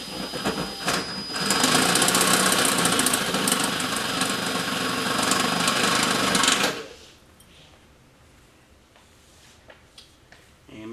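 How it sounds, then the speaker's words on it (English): A drill slowly bores through a car fuel tank with a steady, loud mechanical whir. It runs for several seconds, then stops abruptly and leaves quieter background noise. "you're going to want to drill, really slow."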